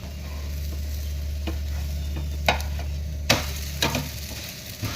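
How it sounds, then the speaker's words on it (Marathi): A dhirde, a pancake of mixed flours, roasts in a pan over low gas with a steady, even sizzle and a few sharp utensil clicks against the pan, close and with no talk. "बारीक गॅसवर आता छान असं खरपूस भाजून घेऊया"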